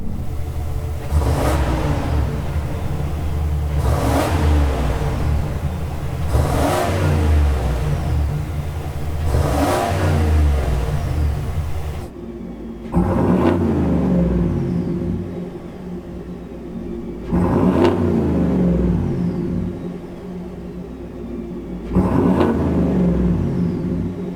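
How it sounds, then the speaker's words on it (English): A GM 6.6L gas V8, warmed up, revved repeatedly through stock and then Borla S-Type exhausts, giving a loud, deep rumbling roar that climbs and falls in steady cycles with brief idle gaps between. "Just some revving after the engine's warmed up"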